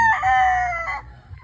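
A rooster crows once, loud and close, a drawn-out cock-a-doodle-doo that fades into quiet.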